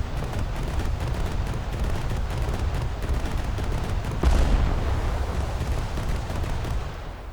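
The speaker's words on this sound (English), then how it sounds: "Leipzig detonated the Karl Galster" Naval battle gunfire in War Thunder, with a steady rumble of distant shots and a sharper, louder boom as a ship detonates partway through.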